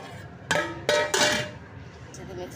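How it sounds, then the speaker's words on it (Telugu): A lid set down on a cooking pot of coconut milk rice in a home kitchen, a few sharp metallic clanks close by, the loudest pair following each other quickly, then quiet kitchen background. "కొంచెం మూత పెట్టేస్తున్నాం."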